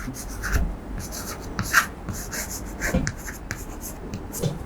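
Pen scratching on paper while a compound-interest maths calculation is written out, a principal of 2000 taka for a Class X lesson: quick irregular strokes and taps, close and fairly soft, with no talking.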